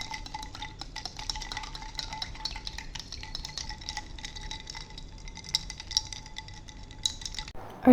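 A spoon stirs raw mango sherbet with ice, clinking against a glass in quick, rhythmic taps, steady and close, ending with a louder knock.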